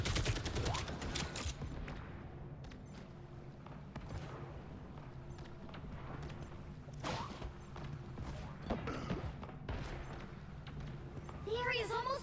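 Video game gunfire crackles in bursts and scattered shots over a steady battle din, with people talking over the action throughout.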